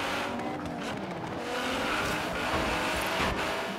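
A 1700-kilo Nissan GT-R in Forza Horizon 3, engine roaring steadily through a corner with a faint tire squeal mixed in, loud and close throughout.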